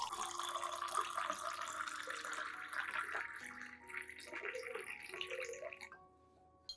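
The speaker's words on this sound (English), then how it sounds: "Next, pour about 500 milliliters of clean room temperature water." About 500 milliliters of room-temperature water poured into a glass cup holding rice, a steady close splashing gush that fades out near the end, followed by near silence.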